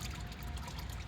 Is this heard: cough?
no